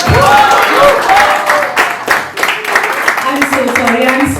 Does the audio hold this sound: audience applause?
yes